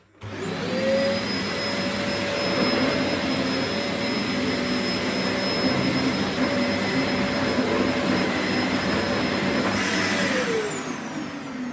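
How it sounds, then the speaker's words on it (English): A Dyson DC04 vacuum cleaner roars steadily with a high whine, sucking up carpet cleaning powder, running continuously before powering down at the end. "Let's vacuum the Zorb up and see how clean the carpets are now."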